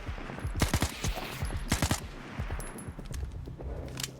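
Machine gun fire in the shooter Stalker 2 rattles in several short, loud bursts of rapid shots spaced about a second apart, up close with no talking.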